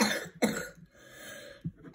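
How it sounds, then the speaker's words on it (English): A person who is sick coughs harshly several times in quick bursts, close and loud, with short pauses and a throaty rasp between coughs. "But I'm coughing more every second."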